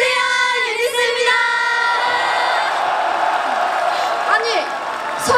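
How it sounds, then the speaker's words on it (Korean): A festival crowd at a Seoul National University engineering college festival screams and cheers for the K-pop group UNIS, a loud steady roar of high-pitched shrieks with rising whoops throughout. "서울대 공대 함성 소리 무슨 일이에요?"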